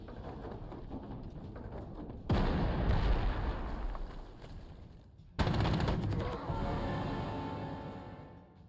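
Artillery shelling infantry in the World War II strategy game Panzer Corps 2: two heavy booming impacts with rumbling, crackling decay, each rising abruptly out of quieter background noise.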